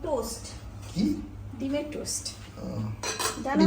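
Eggs are beaten in a bowl to make egg bread, with repeated clinking and scraping of utensil against the dish as a voice talks over it.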